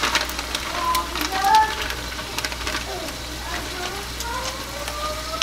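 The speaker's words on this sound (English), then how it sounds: "Now it's time for us to introduce our tomatoes already cooked, homemade." Homemade cooked tomatoes poured into a pot for jollof rice, giving a steady sizzle and fry crackle with soft pouring noise, close and moderately loud throughout.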